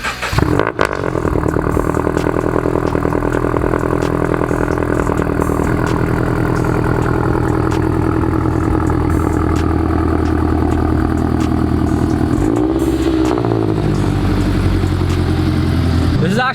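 A supercharged Subaru BRZ engine runs steadily close by with a carbon fiber hood fitted, a continuous loud drone and mechanical whine that holds for several seconds with a brief rev change near the end.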